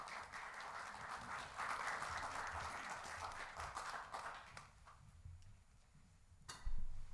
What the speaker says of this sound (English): So a round of applause, please, for Rachel, and I'll ask you to come up.